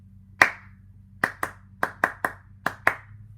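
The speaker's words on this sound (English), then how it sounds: "Here's the second measure clapped." Hands clap out a single syncopated rhythm measure, eight sharp, close, dry claps in an uneven pattern over a quiet low hum.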